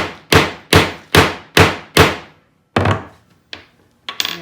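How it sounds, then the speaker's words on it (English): Five sharp, evenly spaced hammer whacks punch a hole for a grommet through material on a block, followed by a few scattered, lighter knocks; close and loud with no talking. "A couple more whacks ought to do it."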